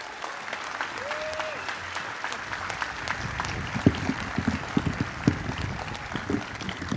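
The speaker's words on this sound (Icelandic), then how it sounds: "gefið þið Sigríðu Maríu Egilsdóttur gott klapp" Steady applause from an outdoor crowd at a public rally, sustained clapping throughout with a few louder individual claps standing out.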